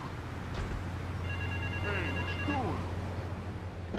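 A payphone rings in the GTA 3 game, a repeating electronic telephone bell over a low steady game hum, with some brief whooping tones in the middle.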